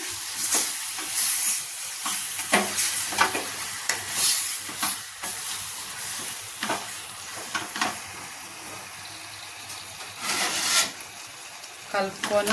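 Chicken pieces frying in a pan with ginger-garlic paste, stirred with a steady scraping and sizzling, spoon strokes rubbing the pan in irregular bursts close by.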